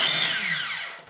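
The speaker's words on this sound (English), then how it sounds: "I think I need to get myself a new food mixer." An old food mixer whirs loudly as it blends hazelnuts and mushrooms, giving a close, high-pitched motor whine that slowly falls in pitch and fades over about a second.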